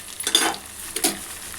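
Dried red chilies hit hot oil with cumin and mustard seeds for a tempering for a Bangalore eggplant pachadi. Two short, close bursts of sizzling and stirring stand out against a quiet background.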